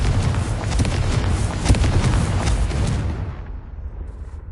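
Explosion from the Confringo blasting spell in a Harry Potter video game, a loud, sustained rumbling blast with crackling debris that rolls on for about three seconds before fading away.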